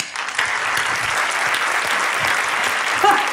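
Studio audience applause on a Spanish TV comedy show, a dense, steady wash of many hands clapping at close range from start to finish, swelling slightly near the end.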